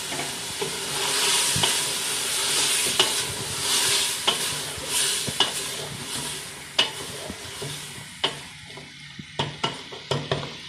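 Mongray and vegetables stir-fry in a pan, a steady close sizzle broken by repeated scrapes and sharp knocks of a spatula against the metal, which grow more distinct toward the end.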